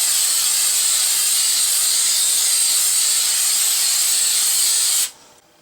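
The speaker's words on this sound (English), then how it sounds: "I'm going to spray one direction and then I'm going to turn the mold after it's dry." A steady, loud aerosol hiss from a spray can coating a glass-fusing texture mold sprays continuously for about five seconds, then cuts off abruptly, leaving near silence.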